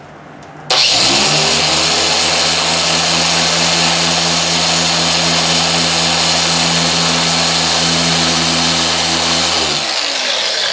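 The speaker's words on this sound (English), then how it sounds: "My polisher is on speed 5." A car paint polisher spins up abruptly and runs loud and steady at speed 5 on the paintwork, a constant whirring motor drone close by before winding down near the end.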